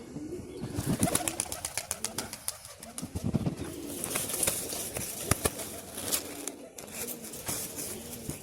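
Several pigeons coo in a loose, repeated rhythm at close range, with soft wing flaps and rustling between calls; a faint voice mixes in at moments.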